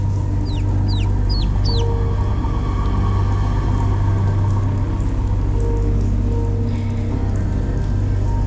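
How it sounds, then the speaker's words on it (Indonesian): High chirping peeps from young chicks sound in a quick series of three over a steady loud rumbling background that continues throughout. "suara anak ayam ya?"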